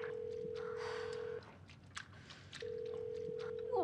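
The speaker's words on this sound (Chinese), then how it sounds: "那斯皮尔不接电话。" A telephone ringback tone on an unanswered call: two long steady tones separated by a pause of about a second, with faint background noise and no speech.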